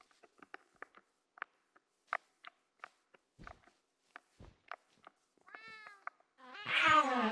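Cat meows in a Minecraft minigame, a string of short soft clicky steps and chirps followed by several distinct meows, the last one loud and drawn out.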